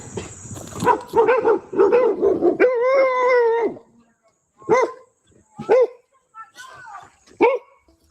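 Dogs bark outdoors on a rural property, a rapid run of loud barks and a drawn-out howl-like yelp, then several separate single barks spaced apart, with voices also present.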